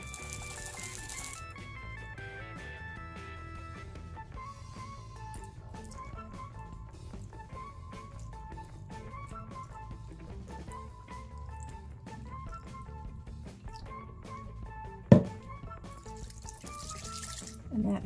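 Water poured into a rock tumbler barrel, a steady trickling, splashing stream lasting most of the clip at moderate level, with light rattles and one sharp knock near the end.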